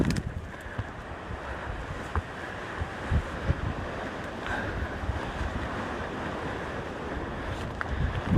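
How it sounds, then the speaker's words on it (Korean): Strong wind blasting across Duryunsan mountain in Haenam, a loud, continuous roaring rush that buffets the microphone with gusts and never lets up. "바람아 그만 좀 불어라."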